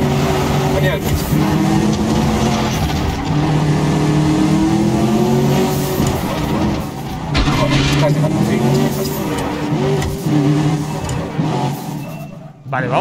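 A car engine revs and accelerates in the shooter game Medal of Honor Warfighter, a loud continuous droning roar with shifting pitch and possible tire noise, mixed with game voices.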